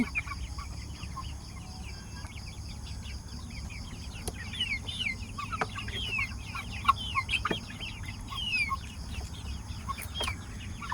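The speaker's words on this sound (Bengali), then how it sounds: "কেউ কি বলতে পারবেন এইগুলা কোন মুরগির জাত" Young desi and tiger chickens cluck and chatter continuously over a low steady hum, with occasional sharp clicks, fairly close by, on a farm in Malaysia.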